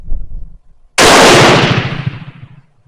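A Mauser Turkish M38 rifle fires a single loud, close shot that rings out and decays over about two seconds, preceded by faint handling noise.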